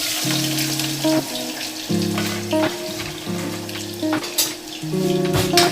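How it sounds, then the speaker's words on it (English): Onions sizzle and fry in hot oil for a yam and crayfish sauce, a steady close crackle with faint clinks of utensils and background music, no speech. "my oil is hot now. I'm just going to pour the onions inside the oil"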